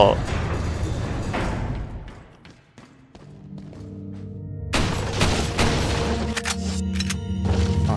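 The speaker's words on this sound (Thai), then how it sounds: "ระเบิด" Explosions in Resident Evil 4 land as heavy booming blasts with dense low rumble, a dip into quieter clatter midway, then a second loud burst followed by sustained crackling debris and tones.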